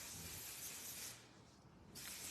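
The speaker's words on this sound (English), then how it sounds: "I'm just spraying an entire cloud full of it into her hair" Davines Dry Texturizer Spray is misted into a person's hair at a salon: a loud, steady aerosol hiss, a brief dip in the middle, then a second close burst of spraying.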